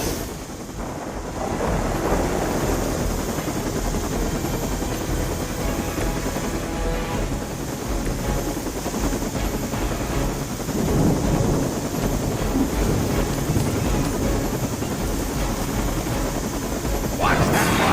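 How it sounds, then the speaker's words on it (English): Steady, loud rotor-like roar with rumbling low end runs throughout from a helicopter in the video game Midnight Suns, with faint talk or effects mixed underneath. "The helicopter's about to leave."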